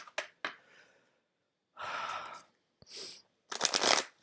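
Playing cards being shuffled by hand, several separate riffling bursts with pauses between them, close and fairly quiet, no voices.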